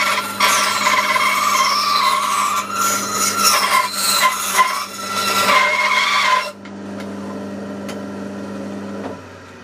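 A wooden knife handle for a Piedmontese knife being cut down to thin it, a harsh continuous sawing or grinding rasp, loud and close, that stops abruptly and leaves a low steady hum.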